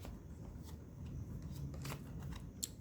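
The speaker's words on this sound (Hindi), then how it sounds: "तो एक कार्ड और मैं निकाल लेती हूँ" A tarot card drawn from the deck, soft, quiet papery slides and rustles with a small flick near the end, no talking.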